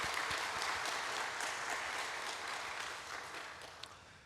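A church congregation applauds during a 73rd-anniversary Sunday worship service, a dense, steady wash of many hands clapping that fills the room and slowly tapers off toward the end, with no voices over it.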